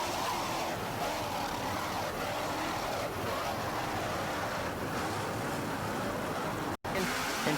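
Offshore powerboat racing Superboats charge across the water, engines roaring in a loud, steady blast mixed with wind and spray, with a commentator speaking over it and a brief dropout near the end.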